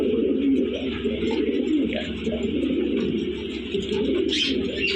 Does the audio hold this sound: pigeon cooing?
yes